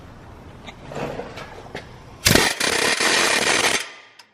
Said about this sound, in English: you can get a hammerhead for an impact or an air chisel, and oh, it works good